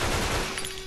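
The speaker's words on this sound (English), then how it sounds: "Shooting everywhere," Gunfire in a zombie shooter game: a brief, dense burst of shots, fairly faint and alone, lasting under a second.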